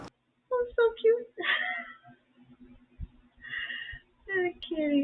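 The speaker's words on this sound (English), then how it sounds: "Look at the kitty!" A kitty meowing several times in short plaintive calls, close by, mixed with excited voices talking over it.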